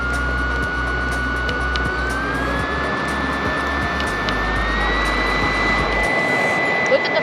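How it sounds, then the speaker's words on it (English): A BioLite Campstove 2+ fire roars with its fan sped up, a steady rushing whoosh with a rising whine as the fan speeds up, close and constant, with a lower rumble dropping away near the end. "Look at the fire coming out like a rocket"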